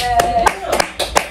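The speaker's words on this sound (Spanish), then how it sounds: "Vaya, aplauso para María" A few people clap in scattered, uneven bursts around a home table while voices talk over and between the claps.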